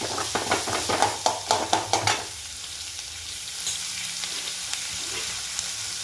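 Food being fried until golden brown in a pan, with a quick run of sharp stirring scrapes and clinks over a sizzle, then a quieter steady frying hiss.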